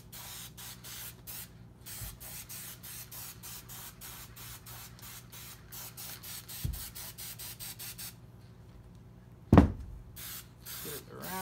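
Aerosol spray adhesive going onto motorcycle seat upholstery in a quick series of short, close hissing bursts, followed by a few sharper knocks and a pause before more spraying.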